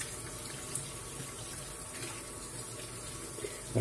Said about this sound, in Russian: Теперь нам нужно эту рыбу промыть хорошенько под проточной водой.